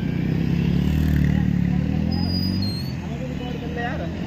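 A group of motorbikes, including R15M sport bikes, roars past at a biker meetup with a loud, sustained engine rumble that eases off after a few seconds, while voices chatter in the background.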